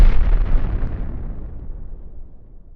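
One loud, deep explosion added as an editing sound effect bursts at the start, then a long rumbling boom slowly fades away over a couple of seconds.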